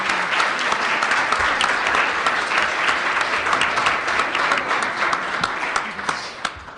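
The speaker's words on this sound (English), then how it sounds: "I think we owe all of our speakers a round of applause" A conference audience gives a sustained round of applause for the speakers at the 2014 ADAO AAPC, with loud, even, dense clapping continuing throughout without a break.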